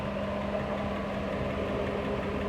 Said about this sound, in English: that mysterious tick, that whine, is how you confirm that it's the alternator